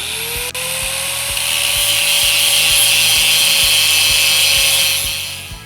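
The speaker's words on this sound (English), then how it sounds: "So I take my angle grinder" An angle grinder grinds a steel pipe after a CNC plasma cut, producing a loud, steady, high-pitched whine with a rising motor tone that fades near the end, close and continuous with no speech.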